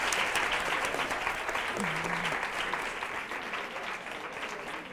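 A studio audience at a televised spelling quiz show claps in a sustained, even burst of applause that gradually fades, with a brief faint tone sounding midway.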